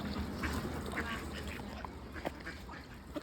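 Farmyard ducks quack repeatedly in short, irregular calls near a flock of chickens and a rooster, moderately close over a steady outdoor background hiss, with no talking.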